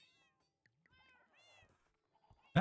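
A Minecraft cat meows several times in short, separate calls, clear and fairly close, ending with an abrupt loud thump.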